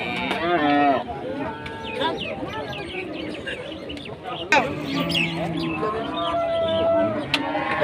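Cattle at Aronkhola cattle market in Pabna, Bangladesh, including Sahiwal cows, with moos and animal calls rising out of a busy, continuous crowd din and chatter; people talk throughout.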